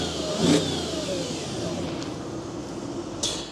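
Audi S4 engine firing up with a short crank and catch, then settling into a steady idle with a slight rev, close by and without talk.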